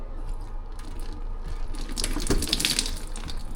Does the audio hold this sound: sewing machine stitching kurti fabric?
no